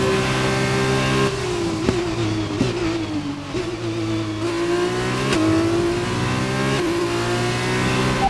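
An F1 race car engine in the F1 2021 video game screams on its final lap, a loud, close, high whine that climbs with each upshift and briefly dips between gears.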